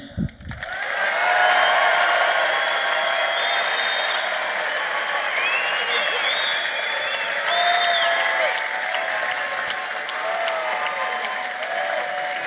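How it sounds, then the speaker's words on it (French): At a company party trophy vote, an indoor audience breaks into loud, sustained applause that swells quickly and holds for over ten seconds, with whoops and voices mixed into the clapping. "Pour Grégoire, on applaudit."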